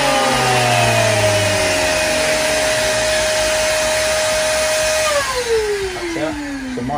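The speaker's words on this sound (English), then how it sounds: "So whenever this gets switched on, the shop vac gets switched on." A shop vac connected to a potting bench's exhaust pull for dust extraction, running loud and steady with a broad whoosh and a sustained whine that drops in pitch near the end as it spins down; no talking.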